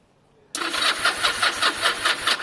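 A motorcycle engine starting on choke with a low battery: after half a second of near silence a loud, close engine bursts into life and runs with a steady pulsing beat, no voices present.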